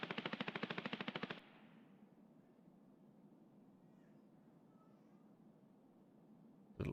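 An M4 rifle in a video game fires a rapid burst of about a dozen evenly spaced shots, loud and close, then cuts to a quiet ambient hum with a brief clatter at the end.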